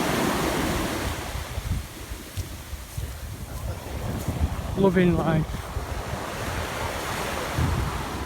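Rough sea surf breaks and washes over a shingle beach in Gibraltar, a loud continuous roar with heavy wind buffeting the microphone, and a short spoken phrase partway through.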